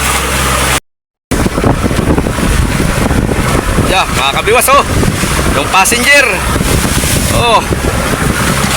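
A passenger boat pitches through big, rough waves, with a constant roar of wind and water close by. Voices talk over it throughout, and the sound cuts out briefly near the start.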